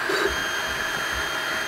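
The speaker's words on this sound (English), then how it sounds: "I'm printing a sample STL file which came with the 3D printer." An Anycubic i3 Mega 3D printer runs a print, giving a steady, close mechanical hum and whir with faint rhythmic stepper-motor pulses throughout.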